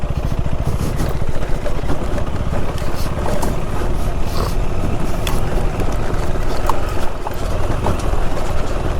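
A 2026 KTM 390 Adventure R single-cylinder motorcycle ridden on a backcountry track in British Columbia, its engine a steady close thrum under heavy wind buffeting and rattling from the rough ground.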